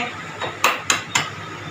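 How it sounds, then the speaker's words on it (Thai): Eggs are cracked against a bowl for Belgian waffle batter: three sharp, close taps about a quarter second apart, set over a faint room hum. "ต่อไปเราจะตอกไข่"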